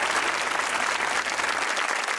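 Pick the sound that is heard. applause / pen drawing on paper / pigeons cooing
applause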